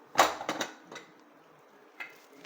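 A pressure cooker lid opening after the steam is let out, with the veg pulao inside: a quick cluster of close metallic clanks and scrapes, then a single lighter clink a moment later.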